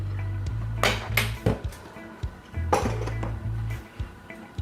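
A Dutch pot, or Dutchie, set on the fire for frying Jamaican chicken, giving a few loud metallic clanks and knocks over a low steady hum, with no talk.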